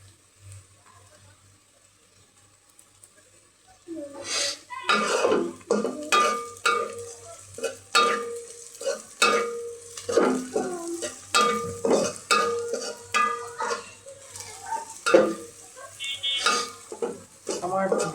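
Onions fried to a crisp beresta crackle in hot oil while being stirred, with repeated bursts of scraping and sizzling after a quiet opening and clinks of utensil on pan.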